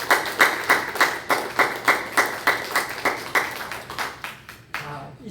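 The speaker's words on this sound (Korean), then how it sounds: "우리 격려의 박수를 하겠습니다" A church congregation at a Sunday service claps together in a steady, rhythmic beat, about three claps per second, fairly loud and close, tapering off at the end.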